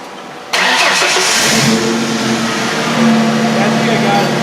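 A car fitted with a Megan catback exhaust cranks and fires up, then settles into a loud, rough idle and swells with a rev near the end, close by, while people talk over it.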